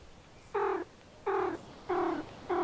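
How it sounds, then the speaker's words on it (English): Four short, evenly spaced tonal cat-like purring trills from a cat emote in the video game Webfishing, clean and synthetic-sounding, each about a third of a second long. "is almost like a little purr, like a little upset noise"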